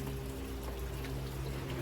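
Water pours steadily onto wilting plants, a continuous close splashing and trickling flow with no break and no talking.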